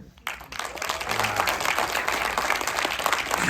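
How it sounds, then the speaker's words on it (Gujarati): An audience at a film premiere breaks into applause, which swells from near silence into sustained, dense clapping from a crowd. "પ્લીઝ આપ સૌની તાળીઓ સાથે"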